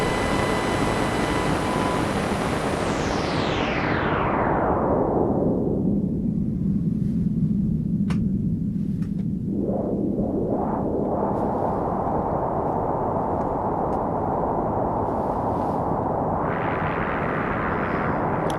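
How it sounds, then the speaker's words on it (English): A Behringer Pro-1 analog synthesizer drone, its filter sweeping steadily down from bright to a low rumbling tone, then opening again with chirping modulation and a radio signal mixed in as a constant hiss. "we can do some crazy radio processing, obviously utilising the filter on the Pro1 and also the modulation section"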